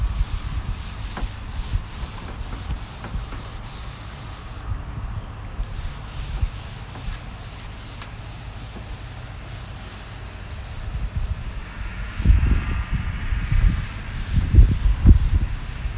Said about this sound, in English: hit it with a 60 grit sandpaper, and then a 120 grit sandpaper